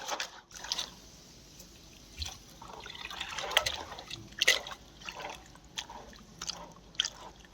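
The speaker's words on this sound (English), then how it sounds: "This muddy water is then passed through a sieve." Muddy water mixed from soil is poured through a sieve, giving soft irregular splashes, trickles and drips at close range, quiet and intermittent.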